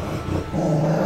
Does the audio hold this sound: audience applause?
no